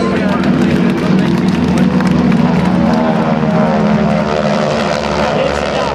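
GEICO Skytypers propeller airplanes roar past overhead at a 2009 air show open house, a loud, sustained drone with a steady engine hum throughout.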